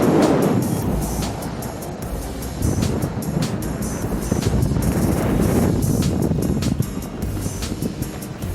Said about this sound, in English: Very windy out here, guys.